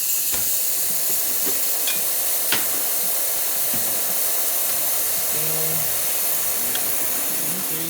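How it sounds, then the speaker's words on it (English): Steady broadband hiss of a Quick Mill Anita espresso machine's steam wand runs throughout, close and constant, with a few faint clicks and knocks in the background. "Just see if the steam pressure's where it should be."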